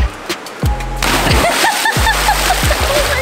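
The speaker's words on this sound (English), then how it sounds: "You had a big splash there" A person diving into shallow outdoor water, toes not pointed, lands with one loud, close splash followed by sloshing, over a background of steady tonal music.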